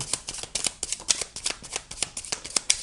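Tarot cards being shuffled and drawn, a quick, uneven run of crisp riffling and slapping card sounds, close and fairly loud, with no talking.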